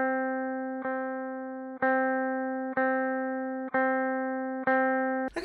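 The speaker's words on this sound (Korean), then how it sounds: "내가 원래 쓰는 피크로 다운업 소리를 들려주자면은" Electric guitar strummed down and up with a regular pick, six evenly spaced strokes with a sustained chord ringing between each attack, close and clear with no voices.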